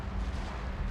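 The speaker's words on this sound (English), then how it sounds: "Ah, my men are now starting to open fire on them." Artillery and gunfire from a battle in the strategy video game Shogun 2: Fall of the Samurai make a dense, continuous booming rumble with no separate shots standing out.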